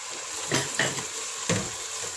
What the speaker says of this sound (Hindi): अब इसमें जिंजर पेस्ट डाल देते हैं। इसको 1 मिनट के लिए भूनेंगे।